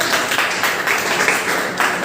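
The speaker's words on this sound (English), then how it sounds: "Clap for the team members." A room of middle-school students claps for quiz team members at a literary week competition, a brief, even wash of many hands applauding together at close range.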